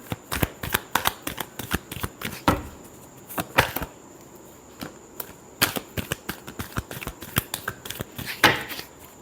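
Tarot cards are shuffled by hand, close and fairly soft, in a run of quick riffles and slaps with short pauses between bursts, and no talking over them.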